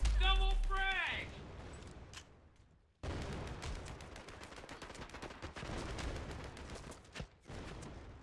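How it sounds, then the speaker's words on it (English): Gunfire in a shooter video game: dense, crackling bursts of shots and impacts fill the clip after a brief tonal sound at the start. There is a short lull near the third second, then the firing resumes steadily. "Who's shooting?"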